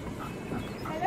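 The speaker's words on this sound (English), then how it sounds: "That's our dog Skippy, by the way." A dog whimpers softly and pants in short, faint bursts over about a second, mixed with low background noise and a possible murmur of voices.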